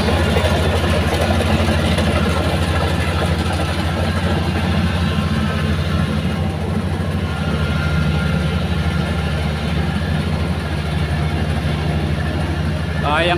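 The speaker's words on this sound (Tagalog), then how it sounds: "Parang laruan lang yung harvester." Engine of a small rice harvester working a paddy field at harvest time, a steady loud mechanical drone with a low rumble that runs throughout under a man's speech.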